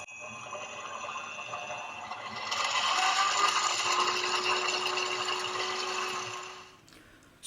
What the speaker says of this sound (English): I'm using a 1/8 drill bit to drill my initial holes